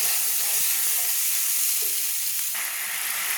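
Spices sauté with salt in a pan for a potato and pointed gourd curry, producing a loud, continuous hissing sizzle with faint stirring sounds close by.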